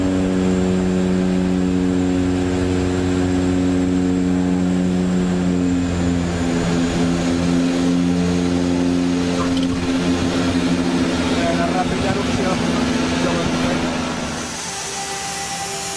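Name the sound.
airplane engines on a flight to Lukla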